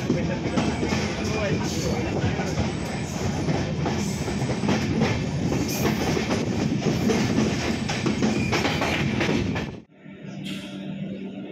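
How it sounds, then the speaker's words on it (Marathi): Bdts Mao Express arriving at Chiplun station, heard from on board: a steady rumble of the train with a light clickety-clack, fairly close, that drops away abruptly near the end into a quieter hum. "आपली ट्रेन चिपळूणला आले"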